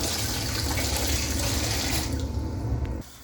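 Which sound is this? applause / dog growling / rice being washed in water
rice being washed in water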